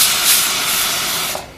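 A pressure cooker on a kitchen stove, cooking a green papaya curry, vents a steady loud hiss of escaping steam that fades toward the end, with no talk over it.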